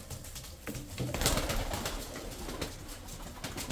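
Tumbler pigeons from Kırşehir coo softly nearby, with low murmuring calls over light background rustle and a few faint thumps.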